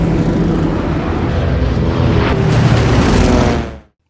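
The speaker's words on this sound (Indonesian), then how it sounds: "Setelah dirasa aman untuk mendarat, rombongan pesawat mereka pun kemudian melakukan pendaratan." A group of airplanes landing on a runway in a film, a loud, dense roar of engines that swells slightly before cutting off abruptly near the end.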